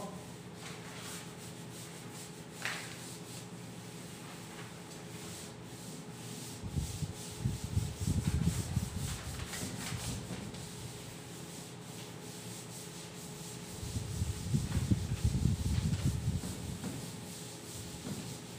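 A board is erased by rubbing in a classroom, two bursts of close scrubbing strokes separated by a quiet stretch, with faint background noise throughout.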